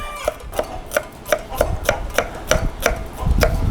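Onions chopped for lumpiang shanghai, a knife striking the cutting board in about a dozen crisp, evenly spaced chops, close and clear with no talking.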